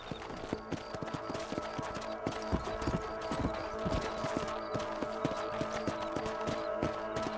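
Horse hooves clip-clop in a quick, steady rhythm in the video game Red Dead Redemption, fairly quiet and continuous, with no talking.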